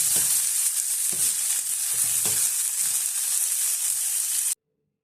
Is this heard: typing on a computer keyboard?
no